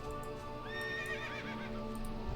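A horse in World of Warcraft gives a clear, rising-and-falling whinny in the middle of the moment, over a soft background of game ambience and faint hoof clops, fairly quiet overall.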